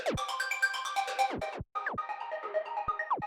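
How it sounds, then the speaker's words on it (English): A plucky synth arpeggio from the Xpand!2 plugin runs through a Bleece Slow Machine tape-stop effect, its bright repeating notes repeatedly sagging and sliding down in pitch to a halt, with one brief dropout midway. "I've got this Bleece slow machine that is doing like a tape stop effect every once in a while."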